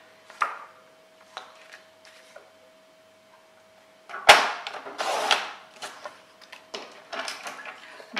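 Scissors or a blade cut through cover material for a handmade Harry Potter album, a sharp snap followed by a few crisp slicing and rustling strokes, near and clear against quiet, with scattered light taps before.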